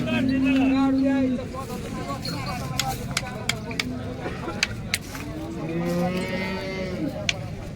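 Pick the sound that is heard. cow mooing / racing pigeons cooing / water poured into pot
cow mooing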